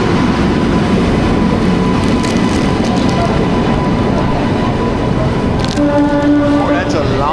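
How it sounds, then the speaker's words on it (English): A long passenger train rolls past at an Indian railway station, a loud steady rumble and clatter of wagons throughout, with a brief whistle or horn near the end. "Oh, that's a long boy train."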